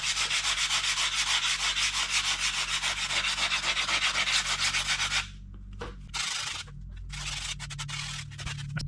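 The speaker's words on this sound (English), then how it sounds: "So I'll use a little 80 grit sandpaper, and I'll just start sanding away." 80 grit sandpaper rubs back and forth over a fiberglass dirt bike side panel in quick, rhythmic strokes for about five seconds, then stops and gives way to a few short, scattered scrapes and quieter handling.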